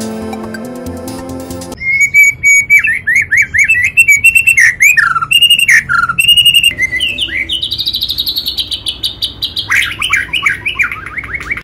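A white-rumped shama (murai batu) sings a monotonous, repetitive ngukluk song, starting with a low tonal run, then dense bright chirps, whistled trills and clipped phrases, loud and close with no other sounds.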